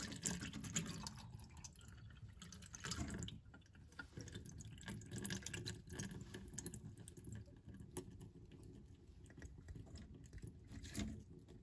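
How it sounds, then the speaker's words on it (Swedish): Brine poured off marinated aubergine pieces for a vegan west-coast-style herring dish, a steady faint trickle and dripping of liquid running for several seconds with small splashes. "Ja, jag ska hälla av lagen här."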